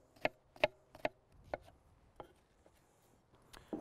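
A knife chops an onion on a board with a short run of sharp, evenly spaced taps that grow softer and more scattered, ending with one more crisp knock, close up and quiet.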